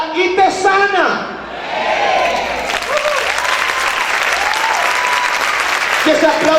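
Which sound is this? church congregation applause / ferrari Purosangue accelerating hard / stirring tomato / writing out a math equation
church congregation applause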